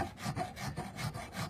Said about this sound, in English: We'll take a rasp and see how the outside of the antler reacts to.